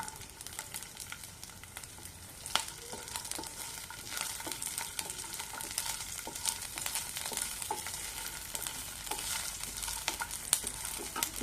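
Green chilies sizzle and crackle in hot oil in a pan while tomato chutney is made, a continuous frying hiss with scattered pops and occasional stirring scrapes.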